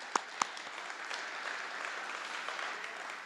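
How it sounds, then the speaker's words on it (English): An audience at a high school senior honors night applauds for a few seconds, a steady wash of clapping from a crowd in a hall, with two sharp claps near the start. "Let's give all of these groups a round of applause for their support."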